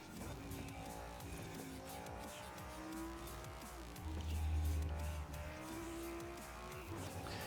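A race car in Forza Horizon 5 drives steadily with a continuous engine drone, shifting and revving as tires squeal in long, high whines through several cornering stretches, with no talk over it.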